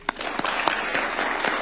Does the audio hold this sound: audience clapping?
yes